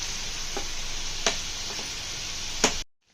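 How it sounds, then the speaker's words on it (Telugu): Chicken browning in hot oil, a steady broadband sizzle that fills the clip, with a few louder stirring scrapes and clinks. The sizzle cuts off abruptly near the end. "ఆయిల్లో చికెన్ని బాగా ఉడికించుకోవాలి"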